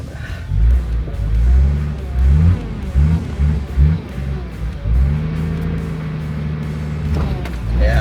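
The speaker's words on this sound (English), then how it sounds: "this time around the Montero easily pulled the 3-ton beast out of the snow" A Mitsubishi Montero strains to pull a 3-ton 4WD out of snow on a recovery strap, its engine revving in repeated loud surges that rise and fall, with voices talking over it.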